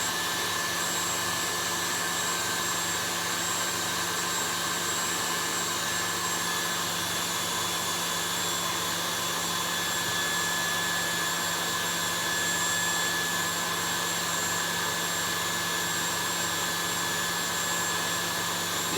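An electric mixing machine whips eggs and sugar with a continuous, steady high-pitched motor whine and whirring hum, loud and unbroken throughout with no talking.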